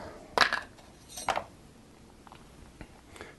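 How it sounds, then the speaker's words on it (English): A spoon knocks and scrapes against a bowl while stirring sugar into cinnamon for apple pie, two sharp clinks followed by lighter intermittent taps, close and without talk. "I put kind of a heaping teaspoon of sugar in the cinnamon and stir it up"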